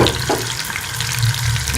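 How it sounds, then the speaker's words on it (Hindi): Chicken koftas frying in hot oil on medium heat give a steady, close, loud sizzle with a continuous hiss and no pauses. "अब इसमें हम कोफ्ते फ्राई कर लेंगे"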